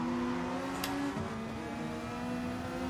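A Honda NSX race car engine in the video game Gran Turismo Sport holds a faint sustained tone that dips partway through, quiet and steady, with no talking.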